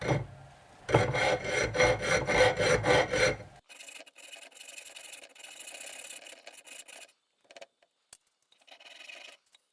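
Harsh rhythmic rasping strokes of aluminium being cut by hand without a hacksaw, loud at first, then lighter scraping with short pauses toward the end.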